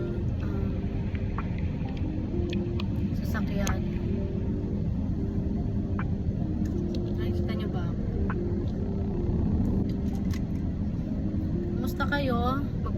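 A parked car's engine idles steadily while warming up on a winter day, a low continuous rumble running throughout with someone talking over it.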